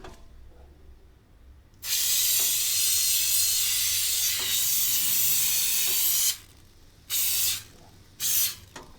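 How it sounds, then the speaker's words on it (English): A long, steady hiss of aerosol canola cooking spray lasting several seconds, followed by two short spurts, close to the microphone. "So a liberal amount of canola cooking spray."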